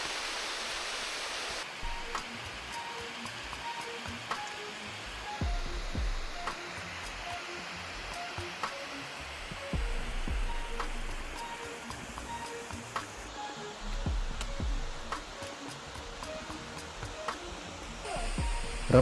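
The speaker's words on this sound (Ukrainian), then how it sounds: "справа від мене дуже гарний водоспад" A waterfall in the Pyrenees mountains gives a steady, even rush of falling water that holds at a moderate level for the whole stretch, with only slight swells and no clear voices.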